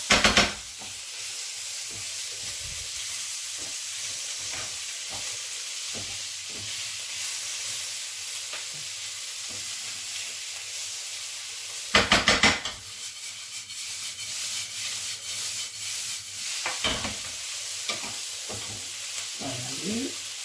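Rice is sautéed with sofrito in a pan for a mountain-style rice dish, giving a steady moderate sizzle under repeated scraping stir strokes, with a louder burst of spoon-on-pan scraping partway through.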